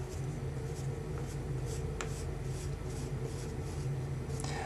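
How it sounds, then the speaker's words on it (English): A pencil drawing a curve on paper, a steady continuous scratching that carries on without a break, close and fairly quiet, with soft strokes and no voices. "Now I've drawn that part of the curve"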